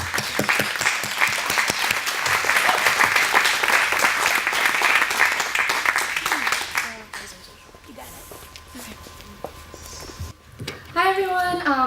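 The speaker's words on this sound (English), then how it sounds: "if I could get a round of applause for our 3 students" An audience applauds three students at a Peabody playback party with steady, dense clapping for about seven seconds. The applause then fades out, and a single voice begins speaking afterward.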